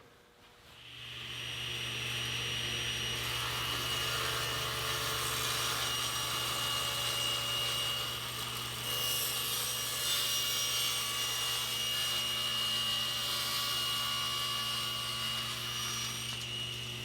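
A saw cuts a taper along a wooden table leg for an entryway table, a steady, loud, continuous whine and rasp that runs unbroken for the whole stretch with slight shifts in pitch.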